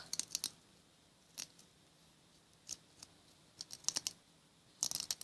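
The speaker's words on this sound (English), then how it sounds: "push it up like this and sharpen it like you would a pencil" A wooden craft stick being turned in a small handheld pencil sharpener, giving sparse bursts of dry scraping and clicking separated by quiet pauses.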